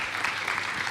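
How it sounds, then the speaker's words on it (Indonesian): An audience at a church gathering claps steadily in a brief burst of applause, with no voices over it. "Kita berikan tepuk tangannya untuk mereka semua."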